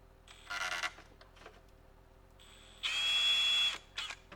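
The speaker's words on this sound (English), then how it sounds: "I'm going to drill that out." Two short bursts of a high-pitched electric drill whirring close up while drilling a hole in a 1981 El Camino, the second longer and steadier, separated by a quiet pause.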